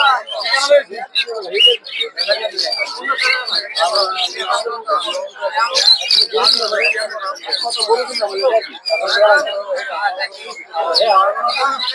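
Lovebirds and pigeons at a busy bird market chirp, tweet and chatter constantly in a dense, overlapping chorus, with someone talking over the birds throughout.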